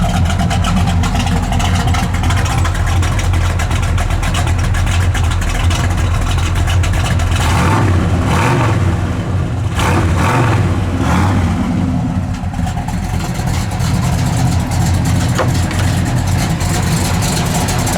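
A 1970 Chevelle SS with dual exhaust rumbles loudly and deeply up close, its revs rising and falling in the middle before settling back into a thumping, steady idle, with no talk.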